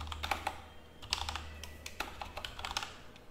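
Quick, light keystrokes on a computer keyboard while entering Linux terminal commands for a Samba server setup, a steady patter of close clicks in a quiet room.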